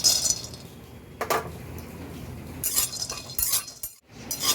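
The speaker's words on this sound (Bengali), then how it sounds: "শুকনো কড়াই আগে বাদামটা একটু নেড়ে নেব" Peanuts stirred in a hot dry wok, with rattling scrapes and bright clinking bursts of nuts hitting metal, close and irregular, alone without talk.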